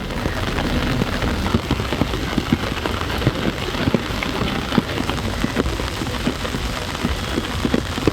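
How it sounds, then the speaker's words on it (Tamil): Steady rain pours down in Kodaikanal, drops pattering densely on surfaces with scattered louder splashes, a continuous hissing wash with no voices. "கொடைக்கானலில் மிதமான மழை பெய்தது."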